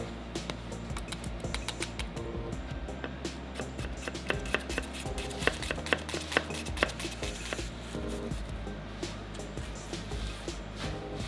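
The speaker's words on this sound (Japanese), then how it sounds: "じゃあまず玉ねぎみじん切りにしていきます。" An onion is chopped finely with a knife on a cutting board, producing rapid irregular taps close by, some strokes sharper and louder than others, with no talking.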